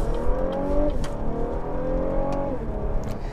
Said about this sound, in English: the engine noise is not good. It sounds a lot like a V6 and a Toyota minivan